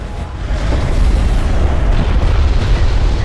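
A loud, sustained bombing explosion in the strategy game Homeworld: Deserts of Kharak, a dense rumbling boom that rolls on steadily for a few seconds with no speech.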